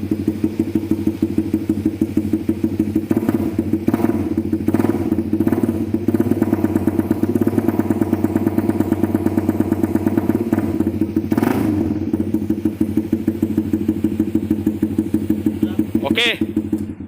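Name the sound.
motorcycle revving with Spec Racing (SR) exhaust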